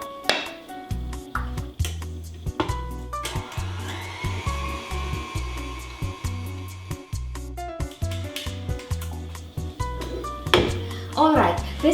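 A stand mixer kneads sourdough for Armenian matnakash bread while salt goes in. The motor hums with a steady whine, and the dough slaps in a regular rhythm of soft thumps throughout.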